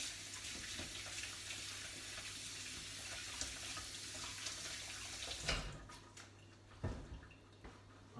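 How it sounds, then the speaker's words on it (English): Hands are washed under a running kitchen tap while preparing spicy bean burgers: a steady, close hiss of flowing water with a few splashy changes as the hands move through the stream. "I'm just going to wash my hands again."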